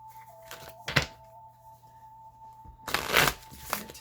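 Osho Zen Tarot cards being shuffled, a short riffle near the start followed by a quiet stretch and then a longer, louder burst of shuffling, close by, with a faint steady hum behind.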